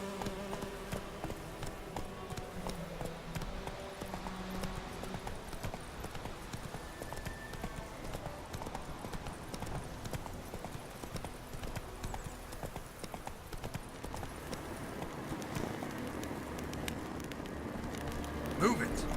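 Roach, a horse in The Witcher 3, clip-clops along in an even, continuous hoofbeat rhythm, set against a dense wash of game ambience with faint insect-like buzzing and voices.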